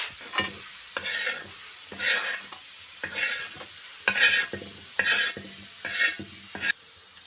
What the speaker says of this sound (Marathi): आजी आता व्यवस्थित परतून घेत आहे सारासाठी